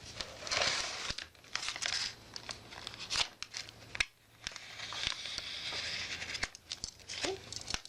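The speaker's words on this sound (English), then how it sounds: "I just want to cut this whole part of the page protector out" Scissors cut through a crinkly plastic page protector in a scrapbook album, giving close rustling and crackling with sharp snipping clicks spaced irregularly throughout.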